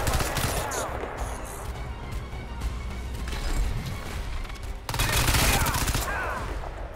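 Sustained rapid gunfire in the video game Crysis 2, a dense fusillade of shots and crashing impacts that runs through the whole stretch and swells louder toward the end.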